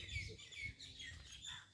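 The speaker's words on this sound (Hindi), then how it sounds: "चिड़ियाँ भी चहचहा रही हैं" Small birds chirp and tweet faintly in a quiet graveyard with trees, plants and grass, brief high calls scattered over soft low background noise, with no voices.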